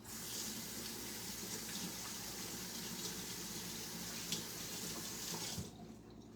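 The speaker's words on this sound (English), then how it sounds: "Let me rinse my hands off" A kitchen tap runs steadily as hands are rinsed beneath it, a close, continuous splashing stream that stops abruptly near the end.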